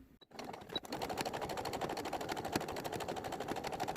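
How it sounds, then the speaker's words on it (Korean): A sewing machine stitches fabric for a homemade bean-filled hot pack, a fast even run of rapid mechanical needle clicks that starts after a brief pause and continues steadily, close and clear. "이렇게 박음질 하겠습니다."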